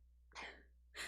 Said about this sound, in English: have to sneeze. Sorry.